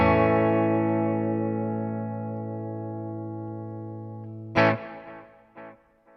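Electric guitar played through a Neural DSP Morgan amp plugin rings out as one long sustained, slowly decaying chord, followed by two short percussive strums or mutes near the end, alone and close.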